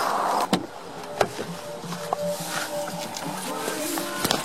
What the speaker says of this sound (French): une voiture vient de me prendre en stop, vient de s'arrêter